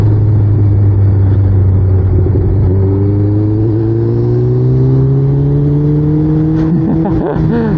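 A sportbike engine revs hard while overtaking in heavy traffic, its loud, steady drone climbing in pitch as the rider accelerates close to the microphone, with a brief burst of extra revving near the end.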